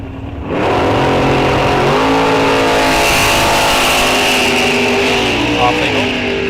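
Two drag racers, a 1997 Beretta and a 1927 Roadster, launch side by side at a raceway, their engines rising into a loud, sustained revving roar that sweeps up in pitch, with faint talk underneath.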